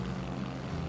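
A plane flies in Poly Bridge 3, giving a steady, droning propeller-engine hum that holds at an even level throughout the brief moment, with no voice over it.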